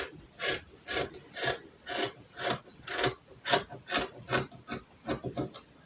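Scissors cutting fabric along the back neckline of a high-neck gathered gown, about a dozen crisp, evenly spaced snips close by, with no talking.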